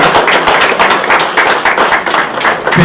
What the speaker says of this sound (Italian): merita davvero un applauso da parte di tutta la città e di tutti voi che siete qui